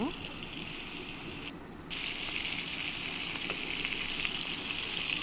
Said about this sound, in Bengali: আমি নিয়েছি কিছু বড় সাইজের পুঁটি মাছ এখন এগুলো আমি ভেজে নিব